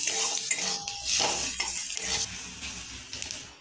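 Morola fish being stirred with salt, turmeric, chili and cumin powder, a close clatter of a metal spoon scraping and tapping the pan in irregular strokes, with faint wet sizzling beneath.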